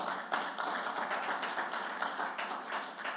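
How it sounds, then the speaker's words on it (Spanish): A congregation applauding the Lord in a church service, steady clapping from a crowd that carries on evenly for a few seconds without speech. "Mejor démosle un aplauso al Señor"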